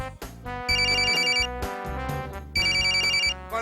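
A telephone rings in a home scene in a Konkani film, two bursts of bright repeating electronic trills over a sustained music backing.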